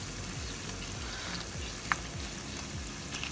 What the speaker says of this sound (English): So we're gonna go ahead and fry these.